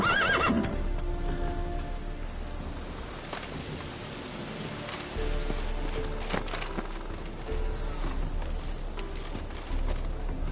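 Roach, the horse in The Witcher 3, gives a whinny at the start, and then her hooves clip-clop steadily along at a walk, loud and close, with no talk over them.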